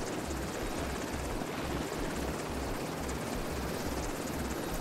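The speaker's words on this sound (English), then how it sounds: "There's our helicopter. Where is it landing?" A helicopter in the video game Tom Clancy's The Division 2 gives a continuous, loud rotor chop, with rapid rhythmic thumping under a dense roar and no talk.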